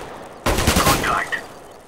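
CS:GO gunfire erupts abruptly as a short, loud burst of rapid shots that trails into a fading echo, with no talk over it.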